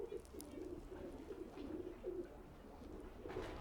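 A racing pigeon held in the hands gives soft, repeated cooing calls, faint and close, over low background hiss.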